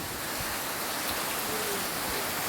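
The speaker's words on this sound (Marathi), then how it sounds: "पाऊस खूपच लागत आहे" Steady, dense hiss of heavy monsoon rain pouring down continuously over flooded farmland in Konkan, with no voices.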